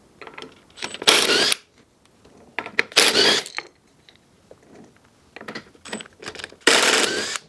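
A go-kart wheel being taken off, with three bursts of loud, broadband mechanical whirring from a tool, separated by lighter clicks and rattles of handling between them.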